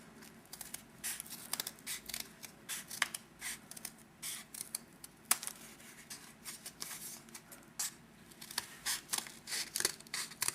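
Scissors cut leaf shapes out of a cardboard toilet paper tube, giving a long run of sharp, close snips and crinkly cuts that come in quick irregular bursts with short pauses between them.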